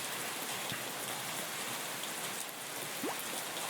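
Steady rain falls in the farming video game Everafter Falls, an even continuous patter with a couple of faint chirps, no talk.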